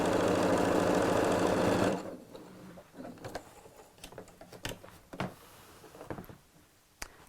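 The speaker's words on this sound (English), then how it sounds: "we'll just sew within the seam allowance, so about 1/8 of an inch from the very edge" A sewing machine stitches a fabric bag along the edge within the seam allowance in a close, steady mechanical whir for about two seconds, then stops, followed by faint handling clicks and small rustles as the fabric is adjusted.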